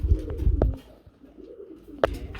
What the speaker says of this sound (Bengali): আমরা এখানে দেখাবো খুবই সুন্দর এক জোড়া কালদাম কবুতর রয়েছে